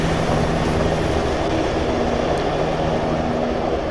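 A military transport helicopter in Arma 3 roars loudly and steadily with a dense rotor and engine drone that holds constant as it departs, with no voices over it.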